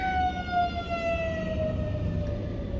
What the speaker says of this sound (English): there's a whole emergency happening right now with like fire trucks and ambulances